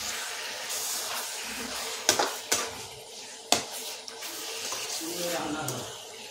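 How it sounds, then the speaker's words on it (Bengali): A spatula scrapes and stirs marinated country chicken curry in a pot, with a few sharp clanks against the metal over a soft continuous sizzle, close by and without voices. "এবারে ভালো করে খুঁটি দিয়ে নেড়ে নেব।"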